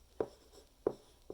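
Three short scratchy marker strokes on a board, evenly spaced and fairly close, with quiet room tone between them.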